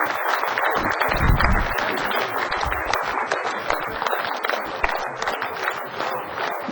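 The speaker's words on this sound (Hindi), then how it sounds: "जोरदार तालियों से लगातार स्वागत आप करते रहे।" Sustained audience applause welcoming a chief minister onto the stage at a public event, dense broadband clapping holding steady and fairly loud throughout, with a few low thumps underneath.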